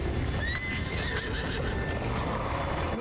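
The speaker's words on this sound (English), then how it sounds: "How is that horse still walking?" A horse in the video game The Legend of Zelda: Breath of the Wild gives a few whinnying neighs over the steady clip-clop of its hooves, set against a continuous background rumble at moderate volume.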